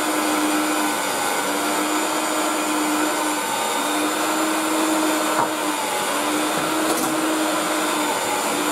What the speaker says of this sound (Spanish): Vamos a utilizar estos dos pinchos para el amasado